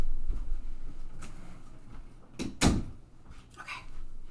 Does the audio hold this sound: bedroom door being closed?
yes